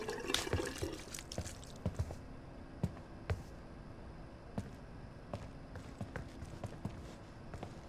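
In the Life is Strange 2 video game, hands are washed under a running tap, faint trickling water broken by soft splashes and taps in a quiet room, with no voices heard.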